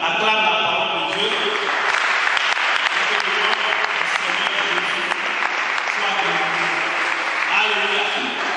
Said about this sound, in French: Acclame la parole de Dieu.